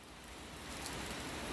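Rain falls under bright sunshine as a soft, steady, even hiss with no distinct drops or voices, swelling slightly toward the end.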